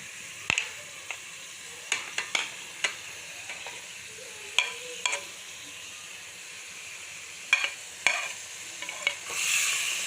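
Lobiya qeema masala, made with hand-minced coarse meat, chillies, turmeric and salt, stirred in a pan: scattered scraping spoon strokes over a steady low sizzle of frying, with a brief rise of hissing steam near the end.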